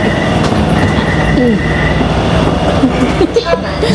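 A train in Taiwan rolls loudly along the rails with a constant rumble from inside the carriage, faint wheel squeals, and people talking quietly in the background.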